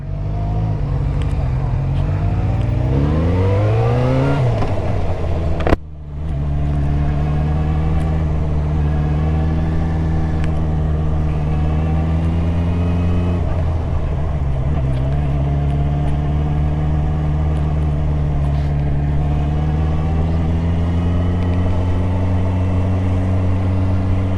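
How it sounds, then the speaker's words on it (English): A motorcycle engine starts during a Mod 2 motorcycle training session, then settles into a loud, close, steady running drone with a brief rev near the start; people talk over the engine. "Turn the bike on first, that would help."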